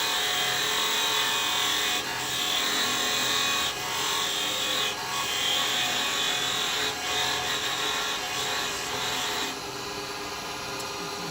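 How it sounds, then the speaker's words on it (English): A wood lathe spins a spindle-turned snowman while a parting tool cuts in, giving a steady whirring hum with faint scraping pulses throughout. "what I'm going to have to do is go in a little bit here with my parting tool."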